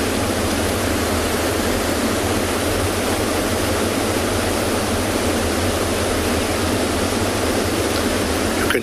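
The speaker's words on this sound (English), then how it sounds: "in the background, you can hear the waterfalls of this river rolling down from" River waterfalls pour over rocks in a safari setting, a loud, unbroken rushing roar that holds steady throughout.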